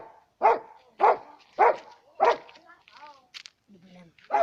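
A dog in training to jump barks four times at a steady rhythm, close and loud, then gives a few softer yips and whimpers before another bark.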